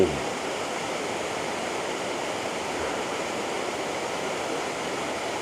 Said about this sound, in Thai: น้ำตกจากจุดนี้นะครับ ก็จะไหลไปเรื่อยๆนะครับ